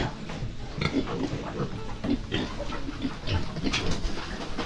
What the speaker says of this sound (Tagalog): Yung baboy ni Paring Dandy mukhang nag-ano na eh